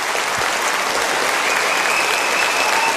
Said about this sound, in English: Ronnie O'Sullivan, who, to the delight of this packed crowd, are on their feet now here in Firth, has won the Paul Hunter Classic.